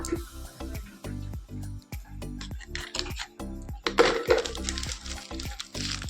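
Biscuits tumbling out of a tin container in a home kitchen, a quick series of sharp clinking, rattling hits that clusters into a denser clatter partway through, close and distinct with little else around.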